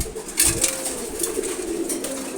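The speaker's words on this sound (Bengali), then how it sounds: "সব কবুতরগুলো খাবার খাচ্ছে দেখেন" Pigeons coo softly nearby in a low, continuous murmur while feeding, with faint rustling in the background.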